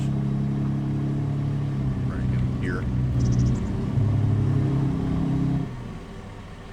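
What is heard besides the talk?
car engine running in video game Farming Simulator 25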